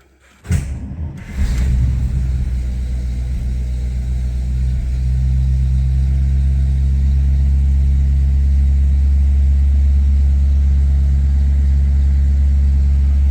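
A brief cranking burst, then a 1941 Buick Super's Fireball straight-eight engine catches and settles into a loud, steady, low rumbling idle close by.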